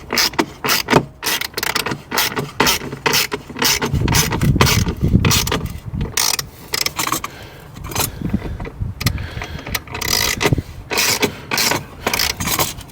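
Continuous metallic ratcheting as a ratchet cinches down a 13mm bolt on a battery plate in a 991.2 Porsche GT3, fast clicking strokes with handling noise, close up and steady throughout.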